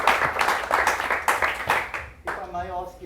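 A room full of people claps steadily for a few seconds, then the applause fades as a voice begins speaking.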